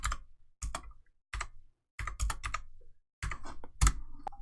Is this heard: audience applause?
no